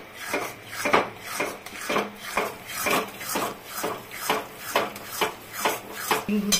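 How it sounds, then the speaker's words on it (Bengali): Egg bhurji being stirred in a pan, a spatula scraping and knocking against the metal in a steady, repeating rhythm of roughly one stroke per half second, close and moderately loud with no talking. "এখন খুব নাড়তে হবে, নাহলে দলা পাকিয়ে যাবে।"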